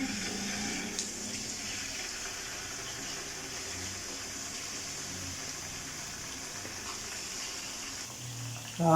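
Chicken pieces added to not-too-hot oil in a karahi, giving a soft, even sizzle that hisses continuously in the near background with a small clatter at the end.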